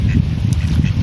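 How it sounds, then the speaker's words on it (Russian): Ducks on the water in Minsk quacking and honking loudly up close, a busy overlapping chorus of several birds calling in quick succession. "такие роскошные уточки плавают"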